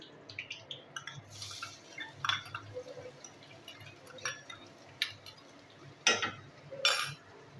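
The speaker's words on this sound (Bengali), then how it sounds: "পেঁয়াজটা আমি ভালো করে ভেজে নেবো।" Chopped onion frying in a pan after minced garlic, stirred with a utensil that scrapes and clinks against the metal in irregular bursts over a faint, steady sizzle, with no talking.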